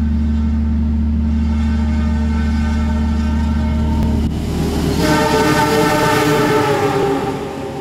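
The Sancaka passenger train rumbles past close by, loud and steady, its low drone shifting partway through as carriages roll on.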